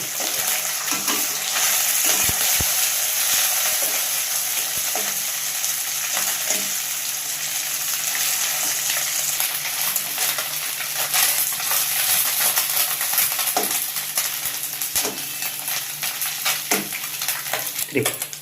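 Lightly fried fish are turned and stirred in a sizzling pan of oil, a steady frying hiss broken by soft scrapes, taps and occasional clinks of a utensil.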